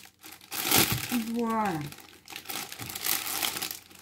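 Rustling and crinkling of packaging as a parcel is opened and unwrapped, with a burst of crackling in the first seconds, partly under a spoken voice.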